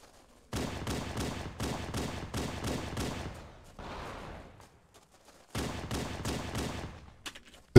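Rapid bursts of gunfire from Halo: Combat Evolved, a run of loud repeated shots, a short gap with scattered noise, then another burst of shots near the end, with no talking.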